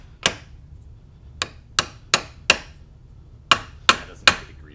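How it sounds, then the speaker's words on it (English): A hammer taps a CV axle onto a MINI Cooper in eight sharp, separate metallic strikes at uneven intervals, close and clear against a quiet background. "Just got to hammer this guy on."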